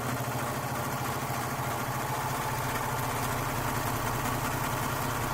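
A serger sewing machine runs steadily, a continuous fast mechanical whirring and buzzing held at an even, fairly loud level with no talking.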